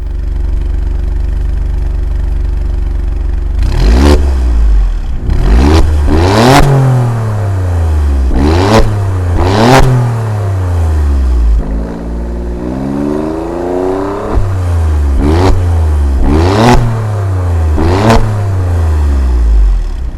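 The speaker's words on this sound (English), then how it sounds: "Those quad pipes there at the bottom, which have a fantastic noise." Alfa Romeo Stelvio Quadrifoglio quad exhaust pipes roaring through a series of sharp, loud revs, roughly eight rising blips with crackling falloffs over a steady idle, close up and with no talking.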